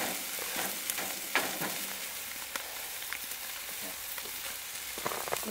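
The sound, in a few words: sausages sizzling while cooking on grill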